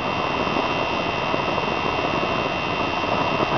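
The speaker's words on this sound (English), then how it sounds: "I can hear the fan speed picking up" A steady, loud mechanical whir of a thermoelectric biomass gasifier stove's small blower fan speeding up as the fire gets hotter, running continuously at close range, with no voices.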